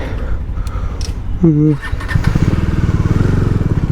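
A motorcycle engine is started for a morning ride on a highway, a brief starter whine followed by the engine catching and settling into a close, steady, pulsing idle, with a voice speaking just before.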